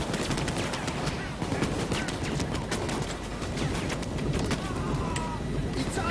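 Rapid automatic gunfire crackles in a Payday 2 heist shootout, sharp bursts and single shots overlapping almost continuously over a busy background.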